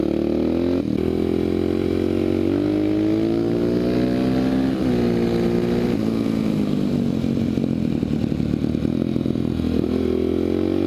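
A Honda XR650R motard single-cylinder motorcycle engine revving up and shifting through gears, loud and close, with pitch rising and dropping at each shift and a rough, choppy note as it pulls hard.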